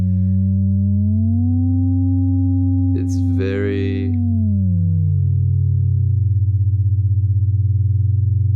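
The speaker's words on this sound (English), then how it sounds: "it's kind of fascinating to see the behavior of 2 sine waves on the spectrogram." Two synthesized sine wave tones from a drone setup sweep and interact, a loud steady hum whose pitch glides up and down, briefly broken by a short burst of noise midway.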